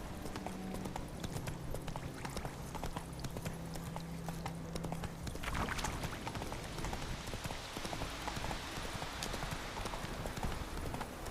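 Roach the horse trotting along a road in The Witcher 3, a steady rhythmic clip-clop of hooves running throughout at close range, with faint background ambience.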